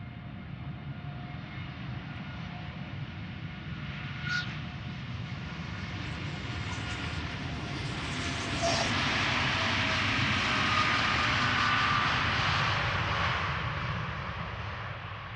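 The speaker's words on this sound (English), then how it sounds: "Lined up is United Airlines Flight 908 going to Chicago O'Hare, Boeing 787-8 Dreamliner" A ten-year-old United Airlines Boeing 787-8 Dreamliner departs Amsterdam Schiphol Airport, its engines a steady broad roar that swells gradually in the middle and holds, heard from fairly close without any voices.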